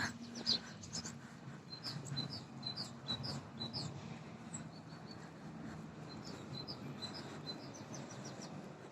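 Faint chirps and short bird calls scattered over a low background rumble, distant and intermittent, with no talking.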